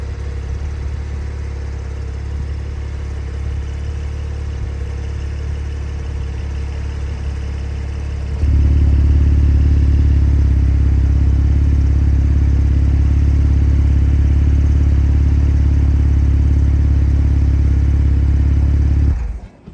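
A Porsche engine idles with a steady, loud, low rumble, then the level steps up to a heavier, louder drone that holds until it cuts off abruptly at the end.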